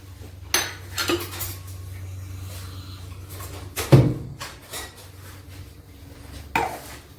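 A metal kadai set down on a stove with a clanking knock of cookware, preceded and followed by lighter clinks of pots and utensils in a quiet kitchen.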